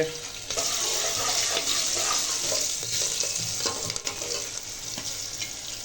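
Curry leaves, green chilies and ginger-garlic paste sizzle in a hot pan for pulao rice, with a steady crackling fry and a few stirring scrapes close by. No talk is heard.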